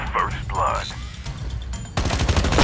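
Gunfire from the mobile shooter game Call of Duty Mobile breaks out as a sudden, dense burst of rapid shots in the last second, after someone speaks over faint game sounds.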